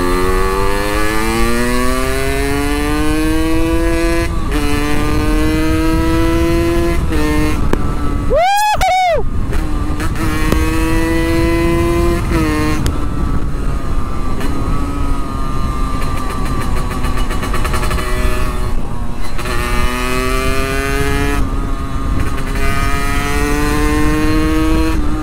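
A Benelli 600i and an imported two-stroke motorcycle race side by side, their engines loud and close, screaming through rising gear pulls with shifts between them and a sharp high-pitched rev sweep partway through.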